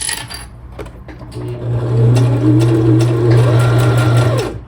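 A sewing machine stitches fabric up close, a steady whirring motor with rapid mechanical clatter that starts up after a few clicks and runs for a few seconds.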